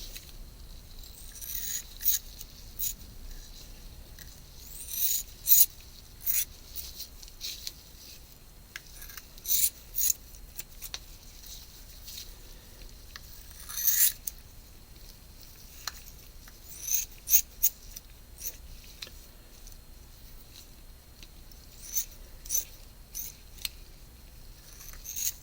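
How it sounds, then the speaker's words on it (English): Scissors snip and rasp intermittently while trimming around a tea light for fire and smoke terrain crafting: faint, close, irregular cuts and scrapes in an otherwise quiet room. "There's nice scissors here."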